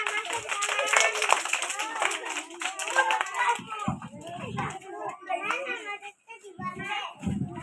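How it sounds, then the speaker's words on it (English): Children clapping their hands at a school flower day prize announcement, bursts of handclaps mixed with lively kids' voices and chatter throughout. "Everyone clap."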